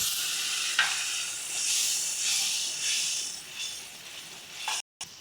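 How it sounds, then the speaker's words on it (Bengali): Paste of white and black mustard sizzles in a pan, a bright steady hiss swelling and easing in waves with a few soft stirring knocks, briefly cut off near the end. "দেখো সর্ষে ফুটতে শুরু করেছে"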